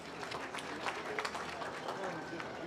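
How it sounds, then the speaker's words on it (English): Audience clapping at a youth swine show after the senior showmanship class, a steady moderate patter of hands with faint voices mixed in, fairly distant in an open arena. "Give these kids a nice round of applause."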